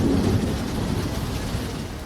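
Torrential rain pours over southern China with a dense, steady roar and a low rumble of thunder underneath, loud and continuous throughout, with no voices.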